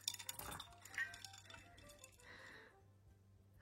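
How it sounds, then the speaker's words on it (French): Small ice cubes clinking against a drinking glass, with several sharp, bright taps early on and a softer rattle later, quiet and close, with no voices. "on aille mettre des petits glaçons dans ce verre"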